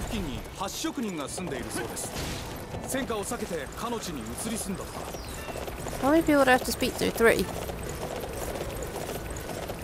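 Horse hooves in Dynasty Warriors 9, a rhythmic clip-clop of galloping running steadily beneath someone talking over it, with louder bursts of game sound effects partway through.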